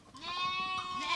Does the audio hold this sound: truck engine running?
no